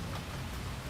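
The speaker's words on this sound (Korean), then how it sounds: "비가 왜 이렇게 많이 와?" Heavy rain pours down in a dense, loud, continuous roar, close and unbroken throughout.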